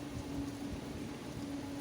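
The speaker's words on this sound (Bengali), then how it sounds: "প্রচণ্ড বৃষ্টি পড়ছে" Heavy rain pouring outdoors, a dense, even wash of falling water with no breaks, carrying on unchanged through a short stretch.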